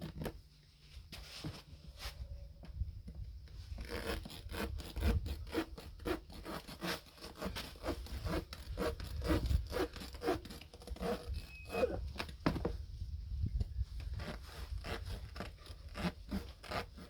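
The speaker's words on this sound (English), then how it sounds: "Let's try some tire cutting." A new knife cutting through a rubber tire, with rapid, rhythmic rasping and scraping strokes close up that continue steadily for most of the stretch, with brief pauses between bursts.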